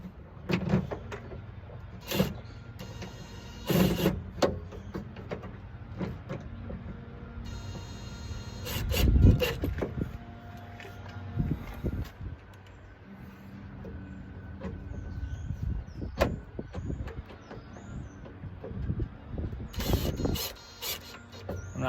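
A new door latch being screwed onto a Ford F250 door, with repeated mechanical clicks, rattles and metallic knocks close up, plus a burst of whirring and scraping midway through.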